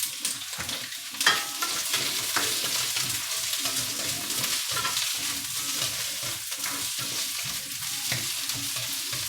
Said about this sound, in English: You hear that sizzling away already.